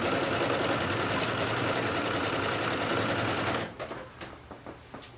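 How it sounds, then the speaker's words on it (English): A sewing machine runs steadily and loudly, zigzag stitching elastic onto a sunflower swim top, then stops, leaving a few soft clicks and handling sounds. "you'll stitch it down with a zigzag stitch, just like we did before."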